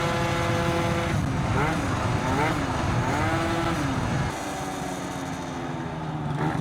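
A Stage6 Yamaha BWS 70 scooter revs at half throttle, its small two-stroke engine whining and warbling up and down close by, then settling lower near the end, with a voice briefly heard over it.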